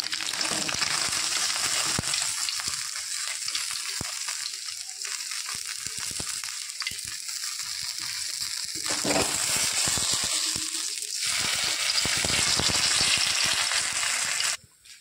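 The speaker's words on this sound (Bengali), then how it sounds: "বাদ বাকি মাছগুলো আমি দিয়ে দিয়েছি, এবার বাদ বাকি মাছগুলো ভেজে নেব।" Tengra fish frying in hot oil, a dense, loud crackling sizzle that carries on throughout and cuts out briefly just before the end, with no voices.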